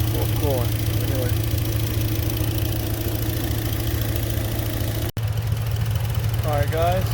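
A 2013 Hyundai Tucson engine idles steadily at close range with a new radiator's cooling fan running, a constant low hum and broadband whir; speech is picked up in bursts over it.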